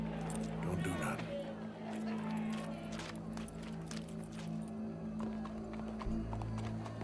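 Horse hooves clip-clop at a walk in the Red Dead Redemption 2 game, repeating under a low steady hum and background crowd noise, with voices talking over them.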